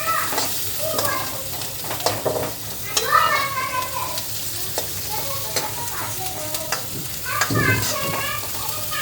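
Onion fries in oil in a pan for sambar, a continuous close sizzle with scraping stirs and clatter over it, while faint voices murmur in the background.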